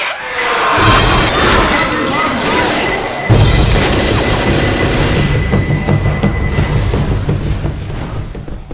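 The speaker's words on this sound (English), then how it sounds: "Grenade." Grenade blast in the video game Left 4 Dead, a loud booming explosion followed by a second heavy detonation, with sustained rumbling gunfire and chaotic crashing continuing throughout.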